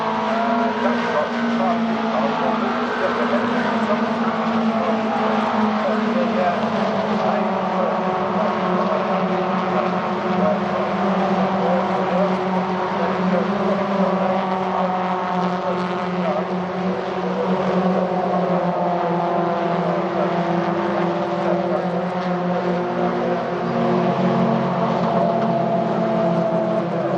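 MG ZR race cars roar past trackside at Silverstone during an MGCC Trophy race, a steady, loud engine drone that holds for the whole stretch, with a commentator's voice running over it.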